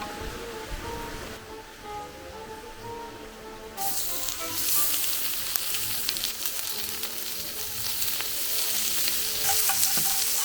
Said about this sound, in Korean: 이 지글지글 소리 들리시나요?